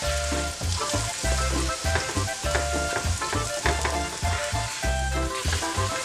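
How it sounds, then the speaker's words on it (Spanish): Corn tortillas frying in hot oil for mole enchiladas give a loud, continuous close sizzle, with a dense crackling hiss throughout and low rhythmic bumps underneath, without any talking. "Ya vamos a dorar las tortillas. Aquí tengo aceite ya caliente y aquí las vamos a poner."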